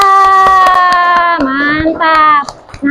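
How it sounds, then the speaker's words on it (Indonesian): Children in a classroom clap in a quick steady rhythm while voices chant along loudly and close by, the claps fading out near the end. "Oke, tepuk tangan untuk Azza."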